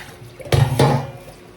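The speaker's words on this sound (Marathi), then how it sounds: "बेसिनमध्ये टाकते पाणी." Tap water gushes into a basin to wash raw chicken at home, a short close splash that swells and then fades.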